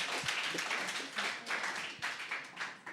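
Audience applause at a talk with young Quebec independence supporters, a crowd clapping steadily in a continuous patter of hands for several seconds, fairly close and even in level.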